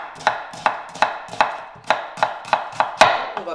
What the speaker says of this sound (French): je coupe en 2, voilà, tac, et je vais venir les émincer.